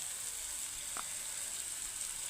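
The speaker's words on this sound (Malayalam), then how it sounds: "ഇതിലേക്ക് നമുക്ക് ചതച്ച മുളക് ഇട്ട് കൊടുക്കുക ചില്ലി ഫ്ലാക്സ്" Crushed chili flakes land in a pan of long beans frying in oil, giving a steady, soft, even sizzle that holds throughout with a faint brief tap partway through.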